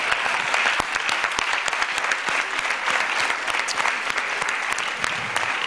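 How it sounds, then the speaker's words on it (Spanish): Applause from an audience fills the room: dense, steady clapping from many hands that holds at an even level throughout without fading. "Hay que dar un aplauso a él."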